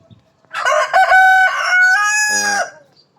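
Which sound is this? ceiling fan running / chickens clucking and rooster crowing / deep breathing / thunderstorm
chickens clucking and rooster crowing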